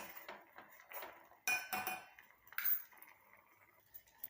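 A spoon scrapes and clinks against a metal pot in irregular bursts, close and fairly quiet.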